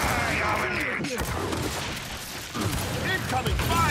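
Scattered gunfire and distant impacts from the video game Gears 5 rumble through a busy battle mix, with intermittent shots and booms under game chatter.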